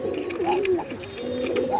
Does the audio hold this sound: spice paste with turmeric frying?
no